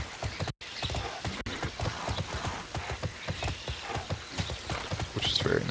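A horse's hooves clip-clop at a steady trot in the online game Tera, loud and regular throughout, with game music and effects behind and a voice talking over them.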